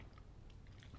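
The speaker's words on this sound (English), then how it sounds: "I'm gonna try some watermelon." Biting into and chewing fresh, crunchy watermelon, with faint, close, soft crunches and mouth sounds against a low background hum.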